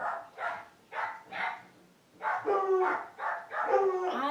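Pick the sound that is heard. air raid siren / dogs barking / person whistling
dogs barking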